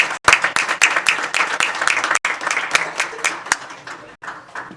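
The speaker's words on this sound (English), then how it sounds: "And let's give a round of applause to our next wave of Echo students." An audience at a college signing day applauds students, with loud, close, sharp claps and some cheering voices, interrupted by a couple of brief dropouts.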